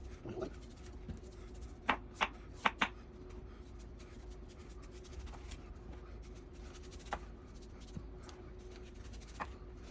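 A knife shaving the rind off an upright watermelon, faint close scraping and slicing strokes with a few sharp clicks and taps, quiet steady background between cuts.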